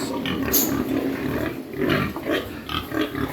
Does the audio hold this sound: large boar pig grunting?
yes